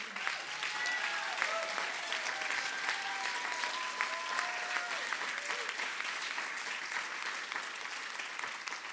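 Audience applause for Hero Everyday Award recipients, an even, sustained wash of clapping at moderate level, with faint cheers and voices threaded through it.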